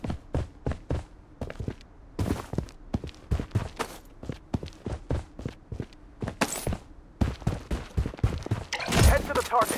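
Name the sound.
gunfire in the video game Blood Strike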